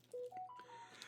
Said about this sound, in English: that is my phone y'all hear in the background